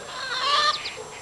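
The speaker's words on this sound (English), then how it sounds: "there's the cat running from the chickens" Chickens in a backyard garden give a quick run of close, bright clucks and squawks, a short agitated burst with no talking over it.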